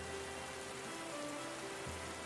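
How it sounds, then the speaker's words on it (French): Steady rain falls continuously in the Anvil Saga game, a soft even hiss with no breaks, joined by a faint low tonal hum. "la pluie ça fait deux jours qu'elle dure là"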